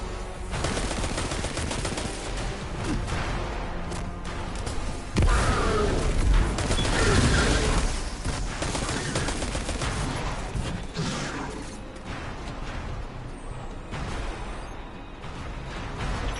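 Sustained gunfire in the shooter game Destiny 2, with dense overlapping bursts and booming shots rolling continuously through a chaotic battle, loud and close throughout.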